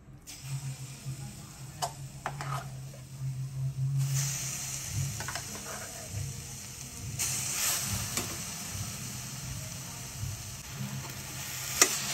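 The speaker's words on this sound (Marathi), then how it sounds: "कढईमध्ये आता हे मिश्रण मी ओतून घेते" Amla candy mixture of ground amla and sugar cooks in a wok with a soft sizzle and occasional stirring scrapes, moderately quiet and continuous, with a louder sizzling patch partway through.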